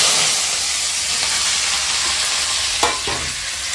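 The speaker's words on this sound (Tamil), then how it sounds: "கடுகு போட்டாச்சு. கடுகு நல்லா காஞ்சிச்சு." Mustard seeds and mango pieces sizzle and crackle in hot oil in a home kitchen while making mango thokku, a dense steady frying hiss with a few sharp pops near the end.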